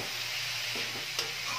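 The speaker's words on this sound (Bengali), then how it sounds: "তো মশলাটার সাথে পেঁপেটা ভালো করে একটু মিশিয়ে একটু নাড়াচাড়া করে নিচ্ছি।" Raw papaya mixed with spices is stirred in a frying pan, a steady close sizzle with a few scraping spoon strokes and no talking.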